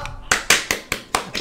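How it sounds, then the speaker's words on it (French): Several sharp hand claps, about six, come in a quick, fairly even rhythm, close and loud. "Soyons fous, je vais applaudir."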